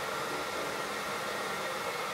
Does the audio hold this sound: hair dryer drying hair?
yes